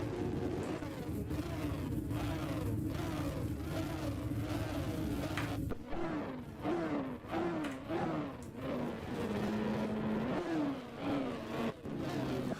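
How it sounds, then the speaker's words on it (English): Several hot rod race car engines rev together at the start of a heat on an oval raceway, a loud sustained roar with repeated rising and falling revs that swell and surge over twelve seconds, close by and continuous. "3, 4, 5, and 6 engines revving."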